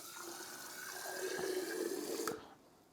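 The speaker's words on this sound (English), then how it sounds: "I'll just go ahead and shove some water in there, and basically they all come out" Water poured into a tray of sunflower microgreen seeds to rinse them: a steady, close splashing stream for over two seconds that stops abruptly, with no talking.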